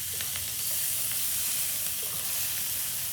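Egg biryani masala gravy with tomato paste sizzles in hot oil, a dense, even, close hiss that holds steady with no pauses.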